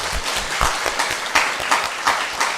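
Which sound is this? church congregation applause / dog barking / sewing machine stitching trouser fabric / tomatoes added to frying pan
church congregation applause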